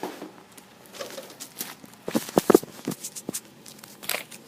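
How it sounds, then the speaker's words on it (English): A PlayStation 4 being taken out of its box: close crinkling, rustling and soft thumps of packaging handled in irregular bursts, louder in the middle. "let's get the PlayStation 4 out of its box"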